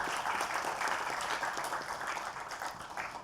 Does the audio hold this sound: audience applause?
yes